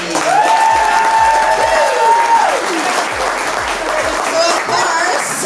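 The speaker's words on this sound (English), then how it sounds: "I want to do one more round of applause, please" A crowd claps loudly and steadily at a Fit Body Boot Camp six-week challenge party, with a thin sustained tone and a few low thumps running through the applause.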